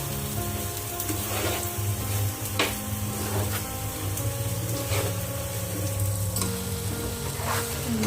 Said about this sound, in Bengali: ভালো করে চাউলটাকে একটু ভেজে নেব।